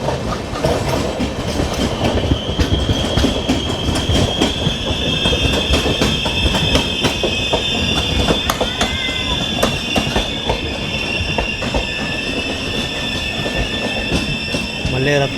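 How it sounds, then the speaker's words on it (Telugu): The Narasapur–Tirupati weekly express, train 17428, pulls away on the main line at some speed: loud, continuous rumbling with rapid clickety-clack of wheels over rail joints and a thin, sustained metallic squeal riding on top. "అదైతే మెయిన్ లైన్ డిపార్చర్ కొంచెం స్పీడ్గా అయితే వెళ్ళిపోతుంది ట్రైన్"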